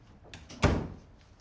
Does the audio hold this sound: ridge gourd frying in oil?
no